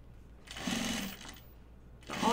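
Sewing machine clean-finishing the binding along the edge of a vinyl Pocket Bucket: two close bursts of rapid stitching whir separated by a short pause, with no talk.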